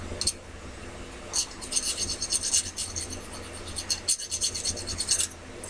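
A file rasps over the rough edges of metal arrow tips made from old tent poles, in close, repeated scraping strokes with short pauses between bursts.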